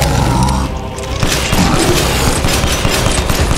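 Rapid bursts of gunfire in the video game Resident Evil Village, crackling shots and booms layered over a dense, noisy background, steady and loud throughout.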